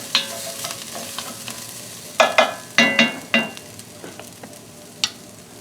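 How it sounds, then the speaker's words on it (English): A spoon stirs pearl barley risotto with herbs and broth in a pot, giving a run of distinct scraping knocks with a soft sizzle underneath, clear and close with no voices. "So I'll give it one final stir here"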